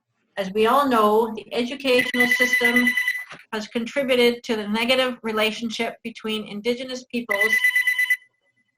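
A telephone rings under a continuous voice giving a talk, its tones sitting above the speech through most of the stretch and stopping at the very end.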